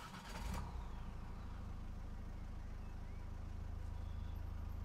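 A Ford Mondeo 2.0 TDCi diesel engine cranks briefly, then catches and settles into a steady, loud, close idle rumble that continues without any talk.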